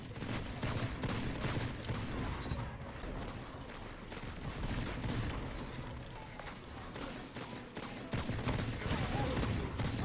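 Continuous dense gunfire in a shooter video game, a steady rattle of rapid shots and mechanical clatter at moderate level with no pauses, under a busy game soundscape.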